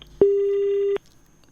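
A single steady telephone tone during a phone-in call on a radio or TV health programme sounds for under a second, alone and fairly loud, with a faint background before and after.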